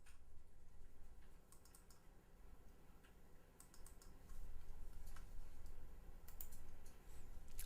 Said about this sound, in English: So you can click on Inari here.